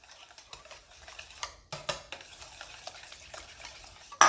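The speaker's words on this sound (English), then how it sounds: "Mix that around." Lemon and lime zest being stirred into a sweet bread mixture for Bulgarian kozunak, with soft scraping and tapping strokes in an uneven rhythm, close and fairly quiet, ending in a louder knock.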